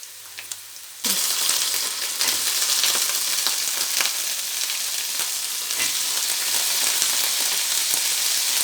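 Potatoes tossed into a pan of hot oil with lightly browned onions erupt into a loud, steady sizzle after a quiet start, with scattered crackles and spatters running throughout.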